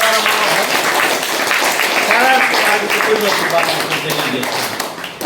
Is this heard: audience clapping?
yes